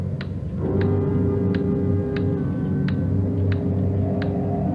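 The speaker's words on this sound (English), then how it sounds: "Sure a loud clock." A loud clock in a radio drama ticks at a slow, even pace, about seven sharp ticks over a low rumbling background, with no voices during the ticking.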